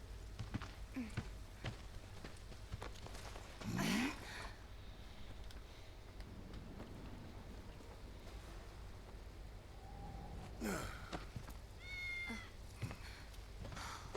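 Cats in the video game Final Fantasy VII Remake meow in short, clear calls, one around four seconds and a few more around eleven to thirteen seconds, over soft background ambience and rain-like hiss.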